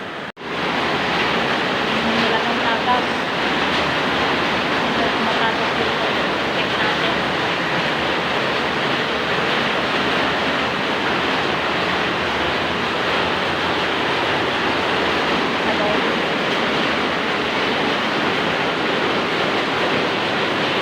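Strong rushing water with surging waves, a loud continuous broadband roar that stays steady and close for the whole stretch, with no clear voices standing out.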